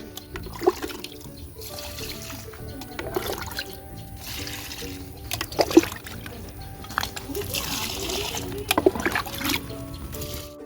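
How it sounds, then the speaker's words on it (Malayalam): Fermented rice water poured from a cup onto bean plants in a home vegetable garden, giving a steady splashing trickle and slosh with a few louder splats, heard close alongside a person talking. "ഓരോ കപ്പ് ഒഴിച്ചു കൊടുക്കുകയാണ്"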